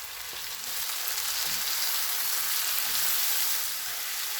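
Tomato paste and tomatoes fry in a pan for an eggplant börek, making a dense, even sizzle that swells a little partway through and carries on alone with no talking.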